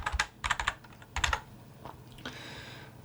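Close, clicky keystrokes on a computer keyboard come in quick bursts of several taps with short pauses between, ending in a brighter, steadier rustle.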